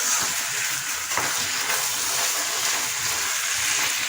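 Carrot halwa mixture stirred in a pan with a steady sizzle and soft scraping throughout, close and continuous with no talking.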